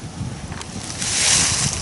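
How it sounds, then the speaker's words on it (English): Wind gusts buffet the microphone outdoors at a Texas log cabin property, a rumbling whoosh that swells louder toward the end, with no voices. "Now it's a little windy today."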